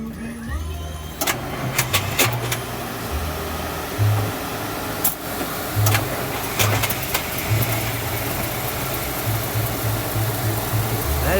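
A 1955 Rolls Royce Silver Cloud engine ticks over quietly at idle after startup, a low steady hum broken by soft rhythmic pulses, with sharp clicks and faint fan noise over it.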